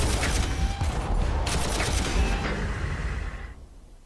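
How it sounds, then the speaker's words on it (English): Heavy, dense gunfire rumbles and crackles in a Warhammer Armageddon battle, a continuous loud barrage of overlapping shots that fades slightly toward the end. "I'm literally firing everywhere at this point to even try and gain ground"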